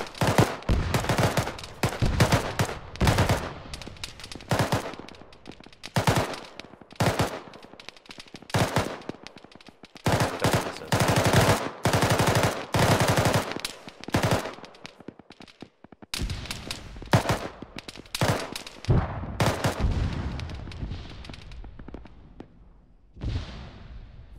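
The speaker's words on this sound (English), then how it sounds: "taking fire from that bunker uphill" Video game machine-gun fire from a bunker comes in long, dense automatic bursts split by short pauses, with scattered single shots and a loud, close crackle that goes on for more than twenty seconds.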